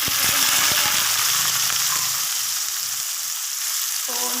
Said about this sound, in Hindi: तो यहाँ पे अब हम प्याज को फ्राई करते हैं